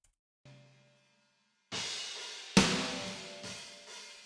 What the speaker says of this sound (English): we have all the other stuff from the room track, all the simple washiness.